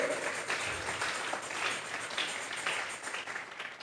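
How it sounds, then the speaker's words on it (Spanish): Church congregation clapping together as an offering of applause during a Spanish-language sermon, a steady dense patter of many hands filling the room at moderate level. "Vamos a regalarle otra ofrenda de palmas al Dios de la gloria."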